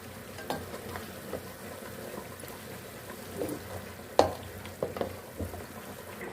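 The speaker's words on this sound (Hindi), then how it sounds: "और इसको हम अच्छे से मिक्स कर लेंगे।" Boiled spaghetti is stirred and mixed through a mixture frying in a pan, giving a soft steady sizzle broken by a few scraping, clattering stirs, the sharpest around the middle, fairly quiet and close.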